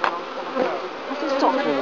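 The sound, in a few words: bees buzzing around a beehive during an inspection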